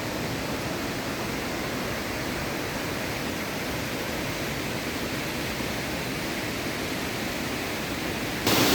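A stream flows along the edge of a cardamom and nutmeg plantation in Idukki, making a steady, even rushing hiss close by that stays constant with no voices.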